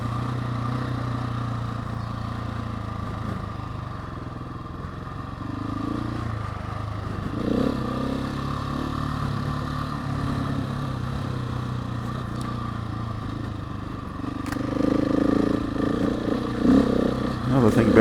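701 motorcycle being ridden, a steady engine drone with rougher rises as the throttle opens and a louder surge near the end, mixed with clattering and scraping.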